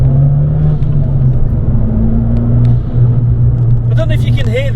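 Abarth 595 engine fitted with a pop off filter revs with a deep, steady rumble close by, then a brief whooshing flutter near the end, with a voice cutting in briefly.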